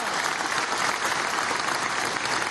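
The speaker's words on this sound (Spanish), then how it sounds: "Un aplauso a nuestros muchachos del basquetbol" A crowd applauds for the national basketball team at a pasta factory event, a continuous loud wash of clapping with no pauses.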